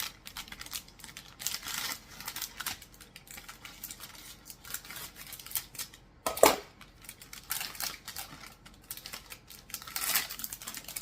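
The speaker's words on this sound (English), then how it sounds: "I'm just opening the package" Crisp cutting and crinkling of a food package being opened with scissors, with small clicks and rustles close by, one sharper snip in the middle, and no talking.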